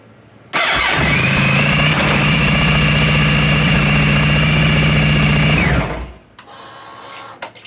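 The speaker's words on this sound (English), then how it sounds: "And now we can put the bike in gear and it stays running." A Honda ST1100 motorcycle engine cranks and catches, then runs at a steady, loud idle for about five seconds before cutting out, leaving quieter background noise.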